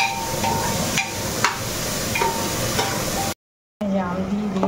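Fenugreek seeds and ginger sizzle in hot oil in a pan as a tempering for dal, a steady crackling fry broken by a few sharp stirring clinks before a short cut.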